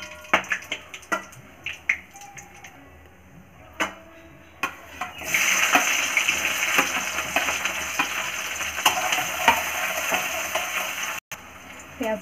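Onions fry in a pan with a soft sizzle, faint at first with a few sharp clicks of stirring, then swelling into a louder, continuous hiss and crackle, with no talking.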